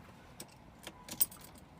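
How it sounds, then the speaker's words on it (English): Car keys for a BMW 5 Series E60 jingle faintly as they are pulled from a pocket, a few light metallic clinks spread over under two seconds in a quiet setting. "just gonna grab the keys from my pockets"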